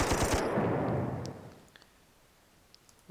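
Rapid gunfire from a tank attack in the strategy game Panzer Corps, a loud dense burst of shots that fades within about a second and a half, followed by a few faint scattered clicks.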